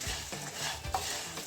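Spiced puffed rice (murmura) with red chili powder and black salt is stirred and roasted in a pan, giving a soft, close, continuous rustle with light scraping strokes.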